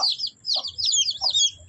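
Naked-neck chicken chick cheeping and clucking in short bright bursts, three or four calls close by, with faint low rustling underneath and no talking.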